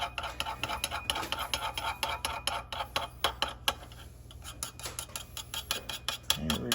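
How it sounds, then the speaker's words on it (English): Egg and wet cornbread ingredients whisked in a bowl, a quick regular clicking and tapping of utensil against the bowl, close and fairly quiet, with a brief pause midway before resuming. "Now we're going to do a quick mixing of all the wet ingredients. Break up the egg."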